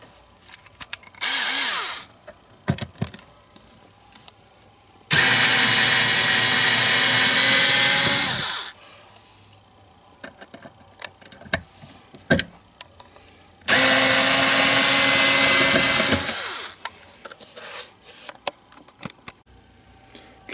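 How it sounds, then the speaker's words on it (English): A power driver backs out the screws holding down the idle speed ECU on a DeLorean DMC-12 in two long, loud whirring bursts, with soft clicks and handling noises in between. "just unscrew these two screws that are holding it down"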